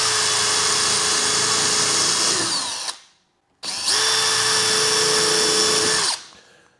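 A power drill bores pilot holes into hard solid oak brackets: two loud, close, sustained whirring bursts of about three seconds each, separated by a brief silence, with no voices.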